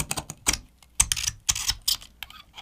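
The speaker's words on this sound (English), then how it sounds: "so strong in fact it's difficult for my razor blade to get a bite on the metal" A razor blade scraping the stainless steel frame of an iPhone 11 in short, sharp strokes, a rapid irregular series of close scratchy clicks and rasps with quiet gaps between them.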